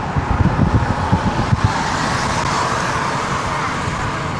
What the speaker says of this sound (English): we're going 55 and I can hear a hum. It's big tires.